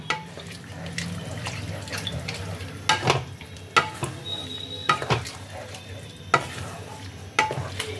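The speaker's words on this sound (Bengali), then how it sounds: "কর্নফ্লাওয়ারের মিক্সচারটা আমি এর মধ্যে দিয়ে দিচ্ছি, দিয়ে ভালো করে মেশাতে হবে" Cornflour mixture stirred into a sizzling chilli paneer sauce, with a low steady bubbling and frying hiss under repeated sharp spoon scrapes and taps against the pan, close and moderately loud.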